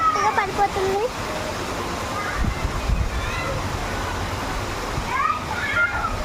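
Heavy rain pours on a summer day and water floods into a house, making a loud, steady rushing wash throughout with voices briefly heard at times.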